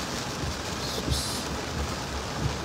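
Heavy rain pours steadily onto a flooded street, a dense, constant hiss of drops with occasional louder splashes and no voices.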